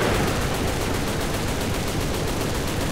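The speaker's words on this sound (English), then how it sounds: "Oh, God, they're already firing." Dense, continuous machine gun fire from World War I planes in War Thunder, a rapid unbroken rattle that stays loud and close for the whole stretch, with no talk over it.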